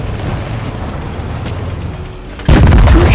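A tank cannon fires in World of Tanks Blitz, a single loud, sudden boom near the end that follows a steady engine rumble.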